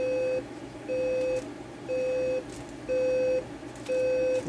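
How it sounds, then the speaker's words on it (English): A General Electric 7-4808A clock radio alarm sounds five steady, evenly spaced beeps, each about half a second long, over a faint background hum. "The alarm is very quiet, but I wonder if this one gets louder over time."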